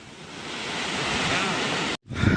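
Gundala waterfall roars as a continuous broadband rush of falling water, growing louder, then cut off by a brief gap before returning with some rumble, like wind noise on the microphone.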